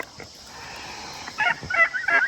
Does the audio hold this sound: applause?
no